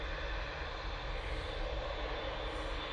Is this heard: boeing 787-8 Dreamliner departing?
yes